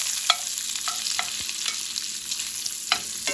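Cut-up sausages sizzle in a pan for Southern fried cabbage, a steady frying hiss broken by a few sharp clicks and scrapes of stirring, with no talking.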